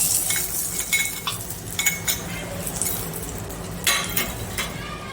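A hot tempering of mustard seeds, urad dal, asafoetida and turmeric is poured into a bottle gourd and rice dish and stirred, bringing a soft sizzle and scattered metallic scrapes and clinks up close.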